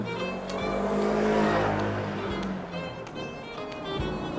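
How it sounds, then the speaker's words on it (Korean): A motorcycle comes by powerfully on a street, a loud engine roar that swells and fades with a few sharp clicks and knocks, close to the listener. "오토바이가 참 박력 있게 오네요"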